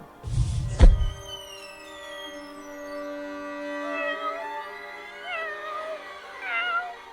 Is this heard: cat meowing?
yes